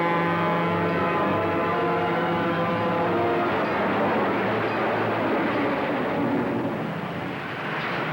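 A train passes in an old black-and-white-era film, a loud, steady rumbling roar with sustained tonal hum that fills the scene alone for several seconds before slightly easing.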